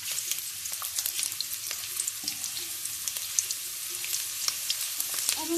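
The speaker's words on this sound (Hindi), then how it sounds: "और इसको लाइट ब्राउन होने तक हिलाएंगे।" Garlic sizzles and crackles in hot oil as it is stirred in a pan, a steady bright frying hiss with scattered pops and spoon scrapes, close and without talk.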